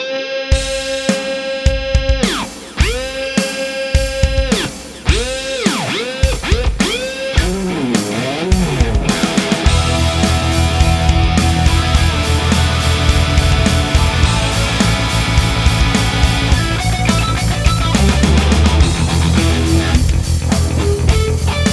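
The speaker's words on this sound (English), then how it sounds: "Here I have the Axis, but the more inexpensive version by Sterling that keeps that iconic look" A Sterling Axis electric guitar with poplar body and maple top, played through an amp: sharp rhythmic riffs with dive-bomb swoops and whammy bends, then a loud sustained distorted passage, no voices.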